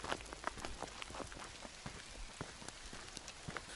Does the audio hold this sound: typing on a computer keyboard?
no